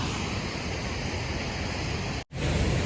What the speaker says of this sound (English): That waterfall is so cool.